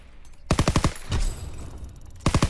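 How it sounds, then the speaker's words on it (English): Rapid bursts of video game gunfire ring out at a firing range, a quick string of loud, evenly spaced shots, a short pause with a duller thud, then another rapid burst. "Over here is the firing range, where you can go and mess around firing your weapons."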